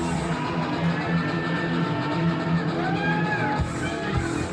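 A pro wrestling arena crowd roars as Warhorse makes his entrance, a sustained noisy wash of cheering with scattered whoops and shouts, while music with held tones runs underneath.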